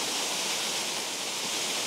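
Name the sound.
waterfall at Benton Falls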